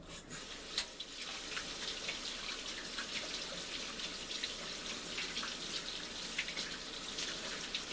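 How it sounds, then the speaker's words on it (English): Tap water runs steadily into a kitchen sink while hands are washed, a faint, even hiss with small splashes. "I'm going to wash my hands"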